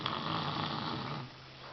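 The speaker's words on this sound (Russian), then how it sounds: "Храпит." A young girl snores while lying down with a book, rough rhythmic breaths close to the microphone, one long snore easing off partway through, with no talking.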